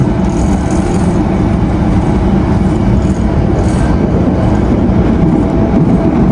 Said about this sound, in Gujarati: ટ્રેન જો કેટલી સ્પીડમાં જાય છે ને એકદમ.